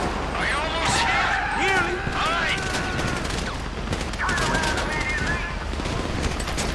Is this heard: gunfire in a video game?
yes